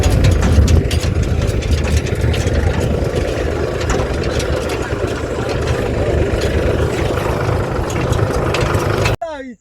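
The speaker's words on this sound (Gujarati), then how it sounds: "હવે આ ટ્રેક્ટરમાં જઈએ બધા" A farm tractor engine runs steadily close by, a loud low rumbling drone that holds even for several seconds before cutting off abruptly near the end.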